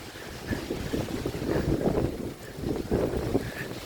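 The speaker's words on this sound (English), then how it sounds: "Today is a windy day." Steady gusting wind buffets the microphone outdoors in Hermann, Missouri, a rough low rumble that swells and eases in waves without pause.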